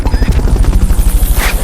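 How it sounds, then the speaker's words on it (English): Helicopter rotor thumping at a steady rapid beat, loud and close, from a Fulton recovery helicopter in Metal Gear Solid Peace Walker, with faint game effects layered over it. "Fulton recovery helicopter is complete"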